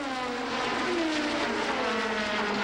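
Formula 1 cars of the 1987 Portuguese Grand Prix, a Ferrari overtaking a Williams-Honda at the fastest point of the circuit, roar loudly and steadily, with engine tones falling in pitch as they sweep past.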